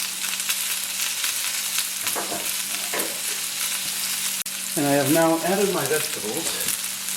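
Vegetables frying in a wok, a steady hiss of sizzling oil with a few stirring knocks; partway through, a brief tonal wavering sound rises over the frying.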